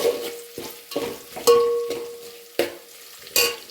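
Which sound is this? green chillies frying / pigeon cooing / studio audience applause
green chillies frying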